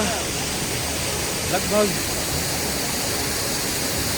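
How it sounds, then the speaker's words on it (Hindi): A large mountain waterfall on the trek to Kedarnath roars as a steady, loud broadband rush throughout, with a voice briefly speaking over it. "मेरे पीछे ये बड़ा सा एक वाटरफॉल है"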